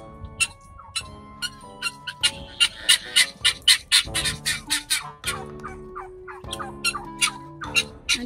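Guinea fowl on a farm give repeated harsh, rhythmic cackling calls, several birds overlapping at moderate distance, with a faint tonal hum beneath.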